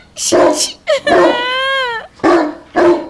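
A dog barks and yips in short, loud bursts, with a whining, rising-and-falling cry in between, as it chases someone in a narrated Hindi village story. The sound is close and sharp.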